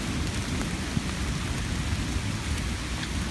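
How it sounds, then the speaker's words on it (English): Steady rain falling along a wet creek trail at Sugar Creek, Indiana, a dense continuous hiss of drops close by, with no voices. "it sounds like there's rain in our future"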